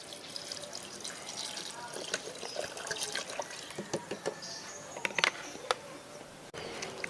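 Water poured into a cucumber peel liquid fertilizer mixture, a close, continuous trickling and splashing pour lasting several seconds with small drips, no talking over it.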